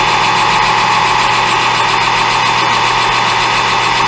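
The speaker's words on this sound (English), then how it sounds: "I got the lathe about 800 RPM." A metal lathe runs steadily at about 800 RPM, a continuous close mechanical hum with a constant motor drone and no breaks.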